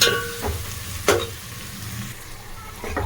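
Chopped tomatoes stirred into a hot pan while making pasta, with a steady sizzle and a few scraping stirs of a spoon heard close by.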